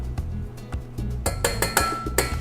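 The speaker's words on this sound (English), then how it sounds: "I'm just gonna kind of whisk that first, adding it to the pan" Whisk working coconut sugar and cocoa in a pan, a quick run of metallic clinks and taps, sparse at first and then faster and louder, close by with no voices.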